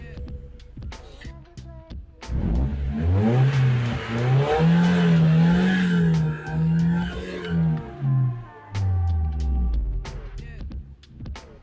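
A Mazda Miata engine revs up and holds a high, throbbing roar for several seconds, then drops back with a few shorter blips of throttle.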